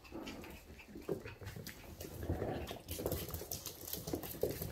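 A Havanese dog panting and breathing heavily indoors after playing, quick soft rhythmic huffs close by with faint whimpery sounds, fairly quiet.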